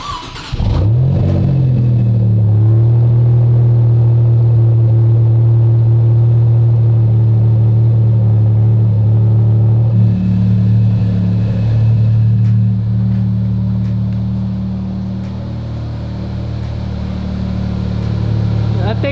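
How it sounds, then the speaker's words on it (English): A Maserati MC20 engine cold starts with a sharp crank and catch, then settles into a loud, steady high idle rumble that eases slightly lower toward the end. "Okay, let's get a cold start."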